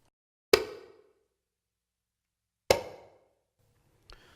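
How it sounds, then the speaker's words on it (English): Two sharp quinto slap strokes on a conga drum ring out alone about two seconds apart, each a crisp crack with a short decaying tail, followed by a fainter muted tap. "Next stroke, which is a very fun one to work on, is the quinto slap."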